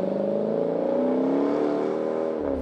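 A deep, throaty car engine roars steadily up close, its pitch climbing slightly as it revs, loud and unbroken for the whole stretch.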